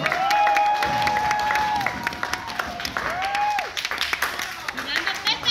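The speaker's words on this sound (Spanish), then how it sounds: "Vamos a darle un aplauso, por favor, a las niñas." Guests at a quinceañera rehearsal clap for the flower girls, a steady close wash of applause with voices talking over it and a few whoops, thinning toward the end.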